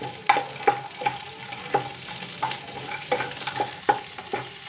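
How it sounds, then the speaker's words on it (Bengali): Cashews and almonds frying lightly in a little white oil, with a steady soft sizzle and a series of distinct scraping stir strokes spaced through the clip, close and moderately loud, with no talking. "খুব হালকা করে আমি ভেজে নেব"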